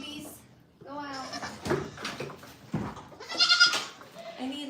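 Several loud, wavering goat bleats close by, one after another, with some rustling and knocking in between.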